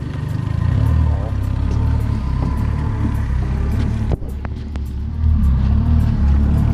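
A Tracker Grizzly 1648 boat's big-tiller outboard engine runs for the first time with a steady, loud low rumble close by, interrupted briefly by a sharp knock midway before the drone resumes and swells slightly.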